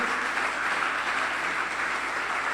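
Steady applause from a church congregation at a Father's Day service, a dense continuous wash of clapping at moderate level throughout, with no speech over it.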